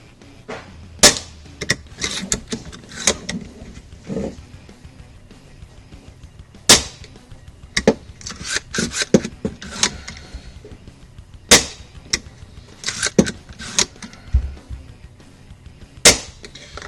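An Echo1 M28 airsoft sniper rifle, fitted with a VSR-10 sear set and trigger group, fired repeatedly: sharp, close snapping shots with mechanical clicks and handling noise in between, spaced irregularly with pauses.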